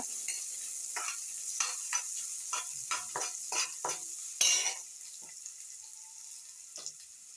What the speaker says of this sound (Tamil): இது நல்லா வெங்காயம் நல்லா ப்ரௌனாக வதங்கட்டும்